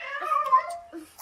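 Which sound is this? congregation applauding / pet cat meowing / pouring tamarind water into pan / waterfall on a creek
pet cat meowing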